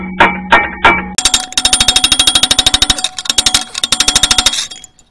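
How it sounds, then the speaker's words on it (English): A few heavy metallic blows, then a long run of rapid ringing hammer strikes on a steel pry bar, steady and close, fading out at the end. "I'll take my bar and hammer"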